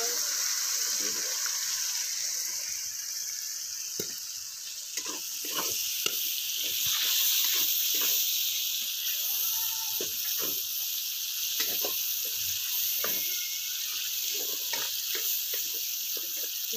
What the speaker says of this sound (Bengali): মশলাটাকে ভাজতে হবে।